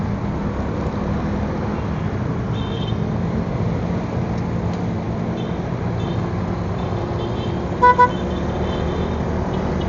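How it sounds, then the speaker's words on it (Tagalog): Two short car horn toots near the end, over a steady wash of road traffic and engine rumble, heard while riding an ADV160 motorcycle. "Kanina malakas yung busina."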